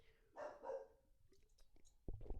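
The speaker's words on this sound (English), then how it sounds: "Sorry if you hear my dog." A dog barking indoors, somewhere in a noisy household kitchen: two or three faint, muffled barks in a row, followed by softer yips and scuffling in the room.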